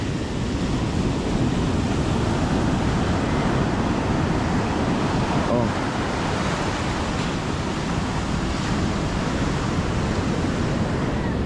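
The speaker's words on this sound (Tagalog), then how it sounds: "Ang lalaki ulit ng mga alon." Big ocean waves break on the shore in a continuous loud roar of surf, steady and close throughout with no voices over it.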